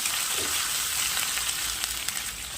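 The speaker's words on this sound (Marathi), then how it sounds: "त्यात थोडं लसूण आणि अद्रकची पेस्ट टाकायची. त्यालाही छान परतून घ्यायचं." Garlic and ginger paste sautés in a pan for cabbage bhaji, giving a continuous close sizzle with faint crackles and a light stir or two, and no one speaking.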